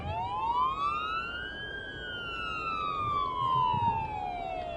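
Wailing ambulance siren from a PS5 emergency-driving game, one slow rise and fall of the tone, loud and continuous above a low rumble of engine and traffic.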